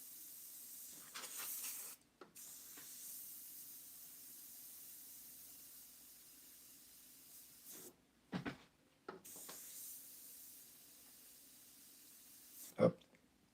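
An airbrush sprays paint in long, soft, steady hissing runs, broken by brief pauses and faint clicks, close and fairly quiet, with no talk over it.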